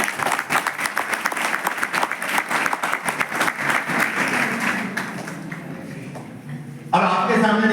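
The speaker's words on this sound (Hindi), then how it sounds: "तालियां बजाइए जरा" An audience at a coaching-class event claps in a dense, lively round of applause that fades after several seconds. A voice speaks over and after it.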